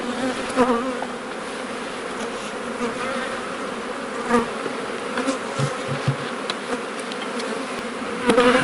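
Buckfast honeybee colonies hum steadily at an apiary in the Poltava region, a dense, continuous close-up buzz of many bees, with occasional knocks and handling noises as hive boxes are worked.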